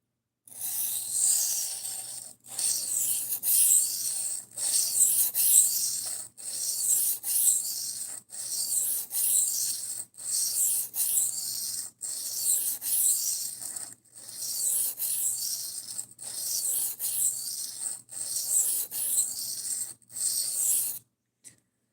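Steel knife blade stroked across an Atoma 140 coarse diamond plate, producing a steady run of rhythmic rasping scrapes, about a dozen bursts separated by brief pauses, close and fairly loud with no talking.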